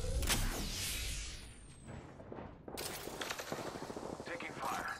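Gunfire in the Apex Legends battle royale game, bursts of automatic weapon fire crackling in and out at moderate distance amid a busy fight, with game voice lines heard alongside.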